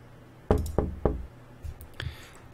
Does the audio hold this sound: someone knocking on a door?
yes